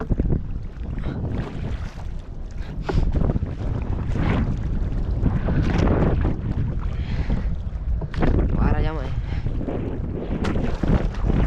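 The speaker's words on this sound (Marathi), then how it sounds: "ऐसा आहे वारा जाम आहे" Strong wind buffets a fishing boat out at sea, a loud, continuous roar of gusts and water noise that rises and falls throughout with no voices.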